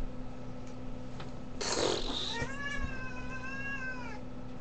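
A cat gives one close, drawn-out meow that wavers in pitch, just after a brief noisy scuffle.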